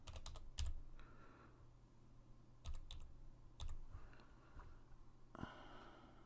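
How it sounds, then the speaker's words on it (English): Soft clusters of keystrokes on a computer keyboard as a password is entered, a few quick bursts separated by pauses, close and quiet with faint breathing between. "So I have to type my password."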